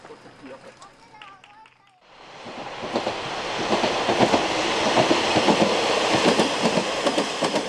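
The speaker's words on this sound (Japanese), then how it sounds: "のどかな山あいを走る列車" A train rumbles past nearby, a loud continuous roar with rhythmic wheel clatter building after a brief quieter moment with a voice at the start.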